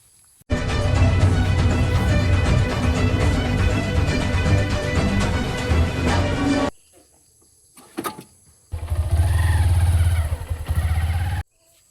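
A motorcycle engine runs loudly and steadily, cuts out briefly with a few clunks, then roars again.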